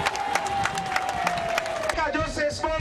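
A crowd greets the President with brief applause and cheering, a burst of claps and shouts with a voice over it.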